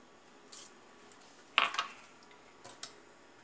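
Spoon scraping and clinking against a pan while stirring a banana and cocoa mixture for banana sweet, a few short metallic taps and scrapes at moderate distance, no talking.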